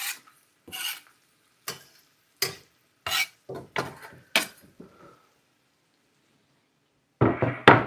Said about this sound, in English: Carrots, onions, celery,